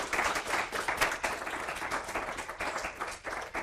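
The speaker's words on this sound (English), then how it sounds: "if you guys can please refrain from clapping" Applause from an audience at a city planning commission meeting, a dense run of many hands clapping at moderate volume, steady for a few seconds and heard on its own without talk.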